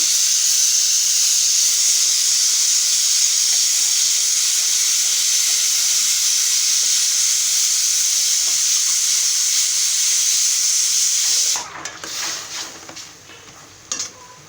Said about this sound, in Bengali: এদিকে আমাদের রুই মাছের মাছের মাথা কষানো হচ্ছে